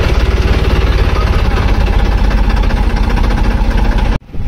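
A Massey Ferguson 9500 Smart tractor engine running close by, a loud steady diesel rumble with a fast, even throb that cuts out briefly near the end.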